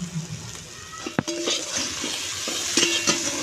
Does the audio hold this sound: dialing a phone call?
no